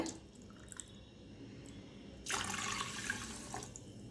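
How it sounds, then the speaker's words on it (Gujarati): Water for kodo millet khichdi is poured into a cooking pot, a faint quiet room that turns to a sudden, steady close splash and trickle of running water. "એટલે હું અહીંયા 6 કપ જેટલું પાણી લઈશ।"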